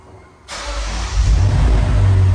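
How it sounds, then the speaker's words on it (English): A 2022 Lexus IS 500 V8 fires up after a brief quiet moment, its deep, loud engine settling into a strong, rumbling idle close by. "It has a really deep sound to it when it starts up. It's a V8."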